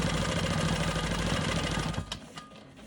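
Sewing machine running steadily while free-motion quilting loops on a diamond quilt block, a close continuous whirring hum that stops abruptly near the end, followed by a couple of faint clicks.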